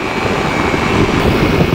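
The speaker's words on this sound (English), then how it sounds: "There's a lot of thrust on this engine, it's hard to keep the nose down." Steady, loud engine drone from a Nanolight sub-70 kg ultralight aircraft in flight, a dense continuous roar heard close up with no talking.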